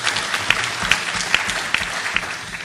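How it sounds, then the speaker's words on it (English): Audience applause for the Permanent Secretary at the 2nd AfricaLics International Conference in Kigali, Rwanda: steady dense clapping from a conference crowd, with a few louder individual claps standing out throughout. "Let us give the Permanent Secretary a big applause for such inspiration."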